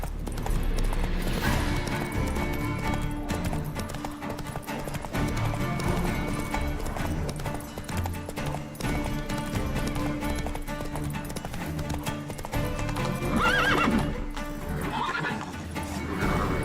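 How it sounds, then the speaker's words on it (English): A horse galloping in The Witcher 3, with rapid rhythmic hoofbeats running continuously and a whinny partway through, set against a loud in-game music and ambience bed. "Run, Roach"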